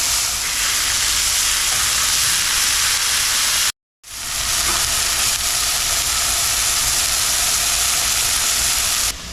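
Sausage sizzling in an iron skillet, a steady loud broadband hiss and crackle that briefly cuts out, then resumes as strongly as before.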